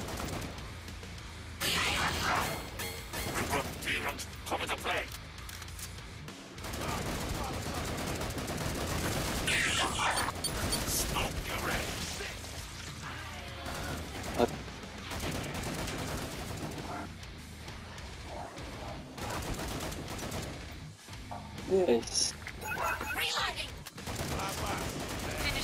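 Gunfire in Killing Floor 2, co-op on the Black Forest map, runs almost nonstop as dense bursts and rapid volleys, loud and close, with brief lulls and a voice talking over parts of it.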